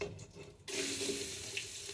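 Water gushes from a tap into a cooking pot as it is filled for khichdi in a small room kitchen, starting abruptly after a quiet moment and then running steadily and close up.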